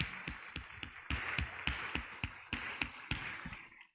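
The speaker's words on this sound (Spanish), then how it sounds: "se vale aplaudir al Señor" A steady run of sharp claps, about four per second, over a bright sustained tone from a church service, the clapping fairly close and ending abruptly.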